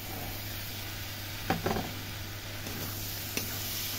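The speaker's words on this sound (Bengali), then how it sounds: "এর মধ্যে এবার আমি দিয়ে দেব টমেটো কুচি, আর আমি দিয়ে দেব মটরশুঁটিগুলো।" Chopped tomato and peas drop into vegetables sautéing in a pan for a homemade vegetable soup, giving a steady soft sizzle with a few brief clatters and stirring knocks near the middle and one later tap.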